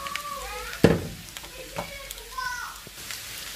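Mushrooms hit a pan with onion and start frying, a soft sizzle with a sharp clatter as they drop in, followed by light stirring scrapes and a few background voices.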